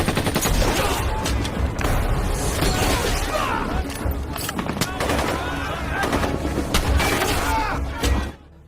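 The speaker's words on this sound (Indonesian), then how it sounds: "Alhasil para sniper harus baku tembak dengan para teroris." Dense, loud exchange of rapid gunfire and automatic bursts between snipers and terrorists in a film battle scene, sustained shots cracking continuously with booming low end throughout.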